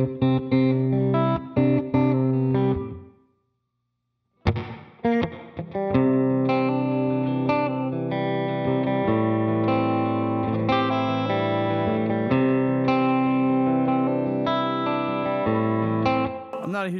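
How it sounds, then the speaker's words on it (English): An electric guitar played through a room reverb pedal on a pedalboard rings out in chords and single notes with a roomy tail. The notes stop briefly, then return as sustained, layered tones. "I just use this as a room reverb."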